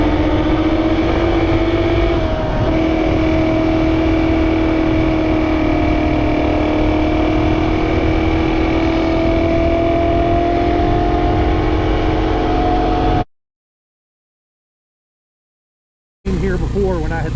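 A Kawasaki KLX 230 dirt bike engine drones steadily while riding at fairly even throttle, a loud continuous hum with slight pitch shifts, cutting out abruptly near the end before resuming briefly.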